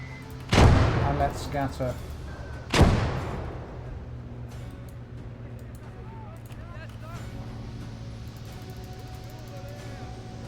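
Two heavy booms of mortar fire land in a World War II tabletop battle game, each a sudden loud thud with a rumbling tail, the first followed by smaller rattles, with someone speaking between and after.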